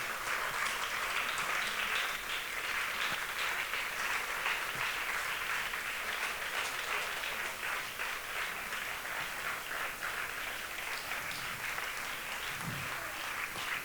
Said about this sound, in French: On se tient debout et on acclame le Seigneur pour sa parole.